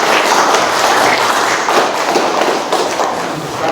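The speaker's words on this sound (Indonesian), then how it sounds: "Tepuk tangan" A classroom group claps together after a presentation, a dense burst of many hands patting in a loud, close, irregular patter that carries on for several seconds.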